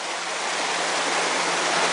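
Water rushes past an AquaDam cofferdam at a flume pipe site in Seattle, Washington, making a loud, continuous, even roar like a stream or waterfall, with no voices.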